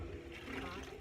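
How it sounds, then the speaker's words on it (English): Green indigo leaf dye is poured back into a pot, a brief gushing splash of liquid that stands alone. "I'm going to pour that back into my pot."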